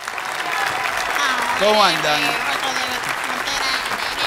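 A live studio audience at a radio comedy show gives a guest an ovation: steady, dense applause runs throughout while a voice speaks over it partway through.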